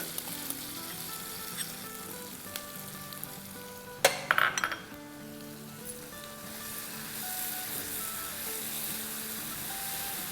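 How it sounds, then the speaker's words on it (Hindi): Creamy masala frying in a pan for chicken tandoori tikka masala biryani gives a steady soft sizzle throughout, with a brief clatter of utensil contact near the middle and no voices. "मसाला देखिए बड़े अच्छे से भुन गया है"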